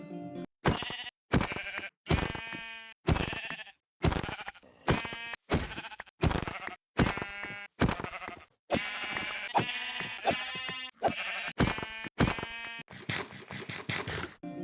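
Sheep in Minecraft bleat over and over, about a dozen loud, clear, separate bleats in quick succession with short silences between them and no speech.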